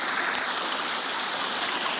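A forest stream flows downhill in a steady, close, rushing wash of water with no other sounds over it.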